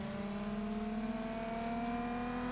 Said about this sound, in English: Now we'll go ahead and run the RPMs up to the horsepower peak.